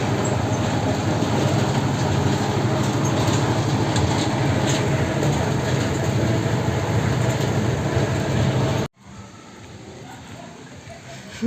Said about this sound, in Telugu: ట్రైన్